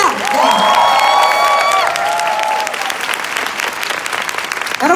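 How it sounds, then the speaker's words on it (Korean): Loud sustained applause from a large seminar audience in a hotel hall, dense clapping with some cheering, while a tonal electronic sound rises and falls over it early on. "한번 박수 한번 크게 칠까요? 네. 더 크게 치세요!"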